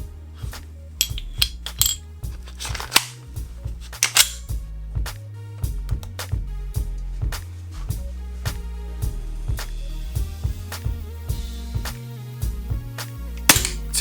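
Umarex Glock 34 CO2 airsoft pistol fires a steady series of sharp, close cracks, one shot roughly every half second to second, with no talking.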